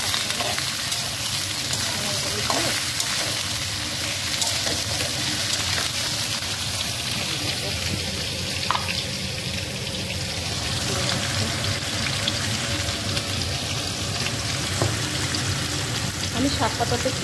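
Potatoes and eggplant sprinkled with a little salt fry in a pan, giving a steady, close sizzle that runs unbroken throughout with faint occasional kitchen clatter.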